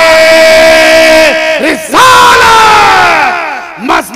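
A large religious gathering shouts a chanted slogan in unison in response to a cleric's call, loud massed voices in drawn-out sustained cries, one long phrase followed by a second rising chant and a brief shout at the end.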